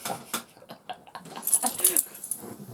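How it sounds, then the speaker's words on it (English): A startled dog makes short whimpers and yips over rustling and faint jingling, close by and at moderate volume. "Scared the crap out of the dog."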